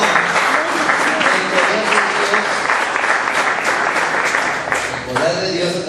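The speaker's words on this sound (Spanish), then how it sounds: "Dale un aplauso al Señor si lo crees de corazón." Congregation applauding during a Spanish-language church sermon, a dense, steady wash of many hands clapping for about six seconds, loud and close, with voices faintly mixed in.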